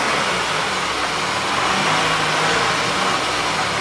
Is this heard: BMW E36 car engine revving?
yes